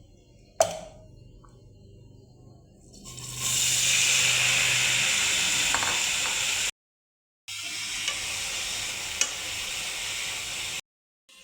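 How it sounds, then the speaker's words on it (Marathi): Boiled sweet corn frying in a pan, a steady close hiss and sizzle that swells after a quiet start and holds, with brief breaks and a few faint clicks. "बॉईल केलेल्या कॉर्नला आपल्याला फ्राय करून घ्यायचं आहे।"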